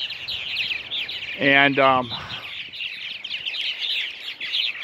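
Purple martins chatter constantly at a busy nesting colony, a bright stream of chirps and gurgles, with one louder, harsh rasping call standing out close by and a person saying a brief word.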